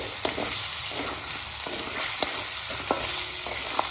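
Garlic and ginger stirred in hot oil in a cooking pan for a duck dish, a steady close sizzle broken by sharp spoon knocks against the pan at irregular intervals.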